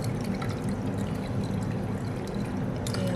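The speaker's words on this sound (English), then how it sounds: "we're just going to pour the excess water off of our wet paper into an empty bowl" Excess water poured off wet paper into an empty bowl, a continuous close splashing pour lasting a few seconds with no talk.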